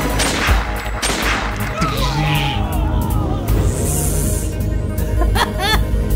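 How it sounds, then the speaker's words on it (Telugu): A Telugu action film's climax fight scene, with chaotic bursts of gunfire, explosions and crashes under a loud, busy soundtrack while people talk and laugh over it. "ఏం అసలు ఫుల్ కేయాస్ అంతా పేలిపోతుంది మొత్తం."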